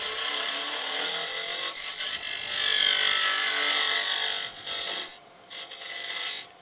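A woodturning lathe tool cuts a tenon on a miniature hollow form, a steady hissing, scraping shave with its intensity rising and falling, briefly easing off and then resuming near the end.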